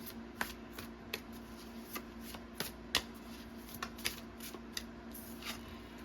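Tarot cards are shuffled in quick, crisp riffles and taps, an irregular series of sharp clicks that is close and quiet, with no talking.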